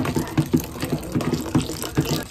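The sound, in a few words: water pouring into container for homemade dishwashing liquid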